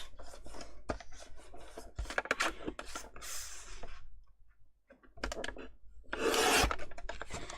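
Paper for a mini album being trimmed, close rasping cuts and rubbing scrapes mixed with small clicks and handling, loud in bursts with brief quiet gaps.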